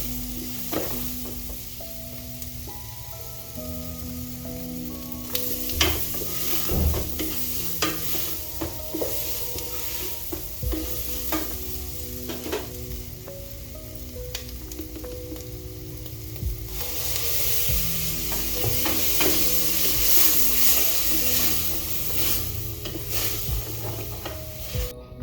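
Spanish paprika for a beef curry toasts in a hot pan under a continuous sizzle, with repeated scraping stir strokes and occasional clinks of the utensil against the pan over a low background hum.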